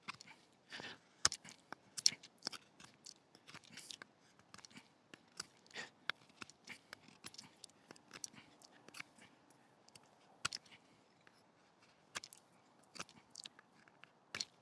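A knife held in reverse grip carves a point onto a stick of hardwood outdoors, making a quiet, irregular series of sharp scrapes and clicks with short pauses between cuts.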